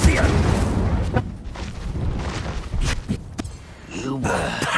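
Incendio fire spell blasts in Hogwarts Legacy, a series of loud whooshing bursts with rumbling low-end impacts over busy combat effects, with a voice shouting over them.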